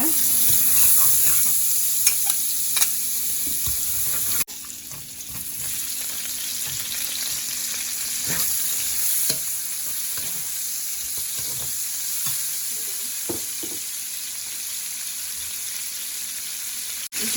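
Butter sizzles and fries in a pan while being stirred for Malaysian-style black pepper crab, a steady close sizzle with scattered spatula scrapes, briefly dipping once before continuing.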